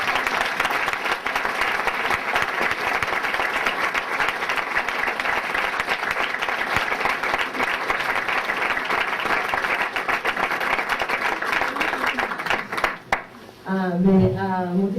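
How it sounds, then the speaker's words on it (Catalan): Sustained loud applause from a large audience at the opening proclamation of the 2016 Sant Vicenç Festa Major, at night, fills the space, then fades as a voice begins speaking over the last moments. "Rebi un fort aplaudiment per començar amb força."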